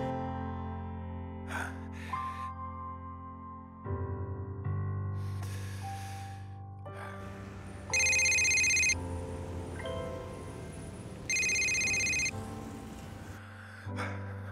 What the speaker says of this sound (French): Réponds au téléphone.